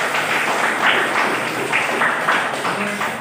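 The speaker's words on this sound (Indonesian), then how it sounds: "Tepuk tangan dulu untuk kelompok 4." A classroom full of students applauds a student group after its presentation, a dense, steady patter of clapping that fills the whole stretch, with voices mixed in underneath.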